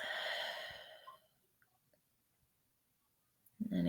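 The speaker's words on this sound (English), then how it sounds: "as you breathe in through your nose. And exhale out your mouth." A slow, deep exhale rushes out near the start, followed by quiet stillness and faint soft breath noises, then another breath begins at the very end.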